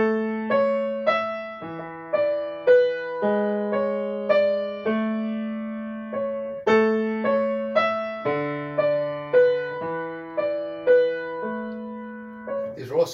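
Piano chords in a classroom lesson on suspensions, struck one after another in a slow, regular pattern, each chord ringing and decaying before the next, played alone and clearly up close.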